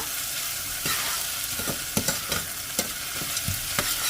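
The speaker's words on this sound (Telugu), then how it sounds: "ఇది కొంచెం సేపు మగ్గనివ్వాలి ఉల్లిపాయల ముక్కల్ని." Chopped onion pieces sizzle and soften in a pan for a ridge gourd milk curry, a steady frying hiss broken by several sharp scrapes and clacks of stirring.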